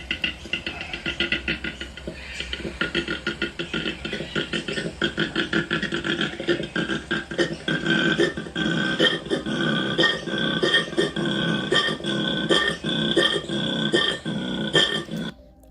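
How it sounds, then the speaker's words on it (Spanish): Koalas bellow in a eucalyptus forest: a long, rough, grunting call that pulses in rapid snoring rasps, loud and close, rising and falling steadily throughout without talk. "Ese es el sonido de los koalas"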